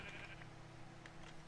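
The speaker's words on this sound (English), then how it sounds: "we got plenty of sheep in the immediate area" Sheep in a Minecraft-style video game bleat twice at moderate distance over a steady low droning background, short wavering cries with a pause between them.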